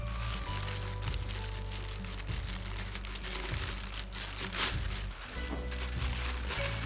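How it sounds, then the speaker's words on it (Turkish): A nylon plastic bag sealed with tape being unwrapped from around a denim and leather crossbody bag, with continuous close crinkling, rustling and crumpling for several seconds, no talk. "Çantayı naylon bir poşetin içine sarıp ağzını bantlamışlar. Naylondan öncelikle kurtulalım."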